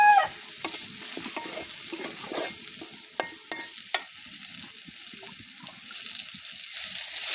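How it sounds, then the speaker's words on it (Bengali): Onions frying with cardamom, cinnamon and bay leaves over a rural clay stove, giving a steady close sizzle broken by sharp clinks and scrapes of a stirring spoon against the pot. "এলাচি দারচিনি তেজপাতা এগুলো দিয়ে একটু ভালোভাবে ভেজে নিচ্ছি"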